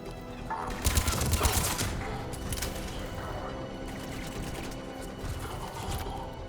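Gunfire during a firefight at a salarian lab in the video game Mass Effect 3: a rapid burst of automatic shots up front, then scattered shots over a steady background hum.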